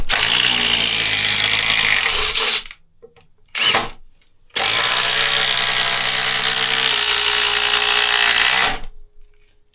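A DeWalt 850 impact driver drives large lag screws in loud, sustained bursts of rattling impacts, with a long run, a short pause, a brief burst, then another long run close by.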